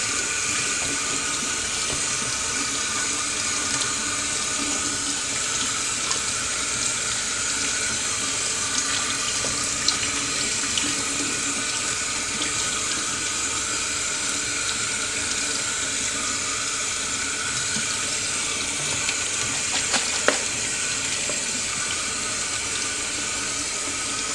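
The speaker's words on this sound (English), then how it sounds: "go ahead and rinse them real good under cold water." Steady cold running water from a tap splashing into a sink while rinsing cooked pasta, a continuous broadband rush with small clinks now and then.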